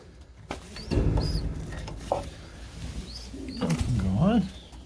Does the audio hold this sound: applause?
no